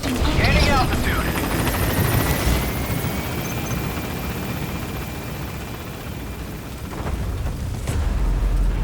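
A helicopter rotor roars steadily at a landing zone in Metal Gear Solid V: The Phantom Pain, loud and close, with radio-style voice chatter over it and a heavy thud near the end.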